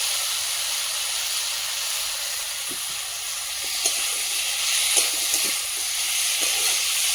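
Potatoes sizzle in frying spice masala, a continuous hissing fry with a few faint clicks and scrapes, moderately loud and with no talking.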